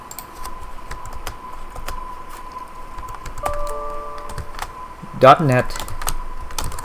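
Quick clicking keystrokes on a computer keyboard while entering commands in a terminal, steady and close, with a faint hum beneath and a brief spoken word near the end.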